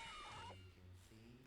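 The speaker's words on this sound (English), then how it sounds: "that's a cat." A cat lets out a single close, drawn-out meow that falls in pitch and fades into a low murmur.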